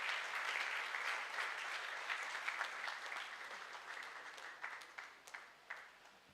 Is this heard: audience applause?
yes